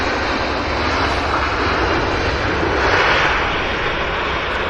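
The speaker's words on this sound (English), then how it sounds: "I'm just letting the sound dissipate here on that Airbus rollout" American Airlines Airbus airliner in landing rollout at Vancouver airport, a loud, steady engine roar holding even throughout with broad rushing noise.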